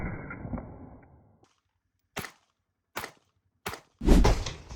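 Four sharp pistol shots from a Sig P365X with its standard slide ring out one by one at an outdoor range, spaced under a second apart, each a crisp crack with a short tail, following a fading earlier noise.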